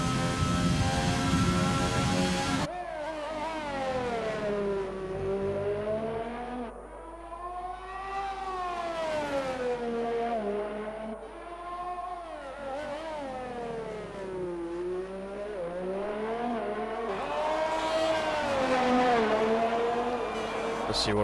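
McLaren race car engine in a racing video game, heard from on board: a loud, continuous high-revving whine that rises and falls through gear changes and corners, with a commentator talking over it.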